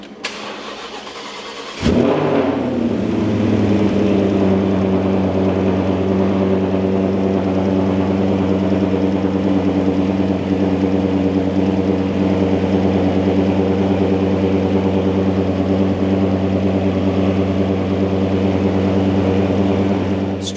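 A 5.2-litre V10 in an Audi S8 cranks briefly and catches at about two seconds, then settles into a loud, steady idle that drones on without talk.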